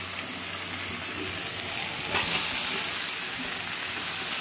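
Potatoes dropped into a pan of fried spices, sizzling loudly and steadily up close, with a brief burst of hissing partway through and no voices.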